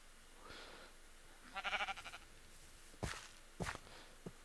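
Sheep bleating in the Minecraft FTB modpack, a short wavering bleat followed by a few sharp blocky thumps, heard fairly close in a quiet game scene.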